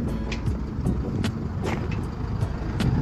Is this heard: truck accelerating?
yes